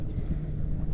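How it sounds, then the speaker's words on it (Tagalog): A brief burst of wind buffeting the microphone while fishing outdoors, a low rumbling gusty roar with nothing else audible. "Mahangin kasi."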